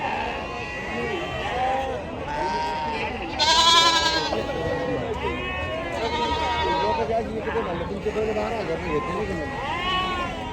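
Sheep and goats bleat again and again at a large livestock market in Maharashtra, the cries overlapping near and far while people talk over the crowd noise.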